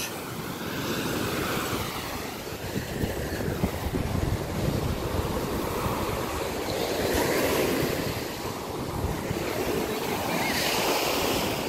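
Surf rolls steadily onto an empty beach, a continuous broadband wash of breaking waves with wind noise against the microphone and no voices.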